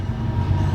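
A passing train rumbles steadily with a deep, continuous low roar, moderately loud and close, with no voices.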